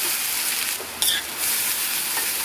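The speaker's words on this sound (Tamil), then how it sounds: "இந்த அவலை வந்து இந்த நெய்லேயே நல்லா வந்து நம்ம ரோஸ்ட் பண்ணிக்கணும்" Flattened rice (aval) roasting in ghee in a kadai gives a steady, close sizzle with stirring scrapes, dipping briefly near the middle before the frying hiss returns.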